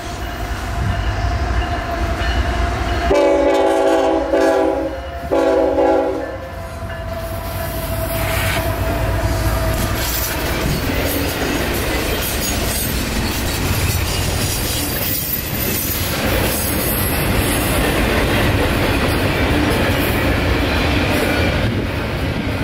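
A short container freight train hauled by two Tier 4 GE locomotives passes nearby with steady rumbling and clacking wheels; a horn sounds in two long blasts early on, then the rolling continues.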